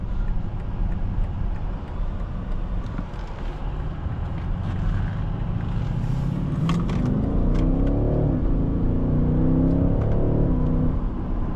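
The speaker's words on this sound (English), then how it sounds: "The acceleration in these things is monstrous." A 2022 BMW X6 M50i with its twin-turbo V8 pulls hard under load, a steady low engine drone and road roar climbing in pitch as it gathers speed, heard from inside the cabin with no talking.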